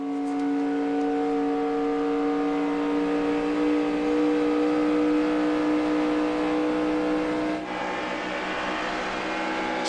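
A pack of NASCAR race cars at Talladega during the 2009 Aaron's 499 holds a loud, sustained high-pitched engine whine that shifts slightly in pitch as speed builds on the back straightaway.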